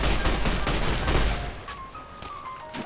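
Rapid rolling gunfire from the video game Fallout New Vegas, loud and dense at first, with overlapping shots that thin out and fade, leaving faint tonal game sounds behind.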